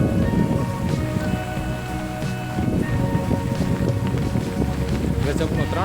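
Heavy rain and gusting wind sweep across a village farmyard where cattle and buffaloes are kept, a steady broadband roar that stays loud and constant throughout, with a voice talking now and then underneath.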